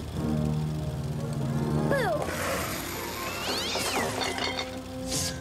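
A cat meows several times, close and fairly loud, over a steady low hum and background noise, with no talking.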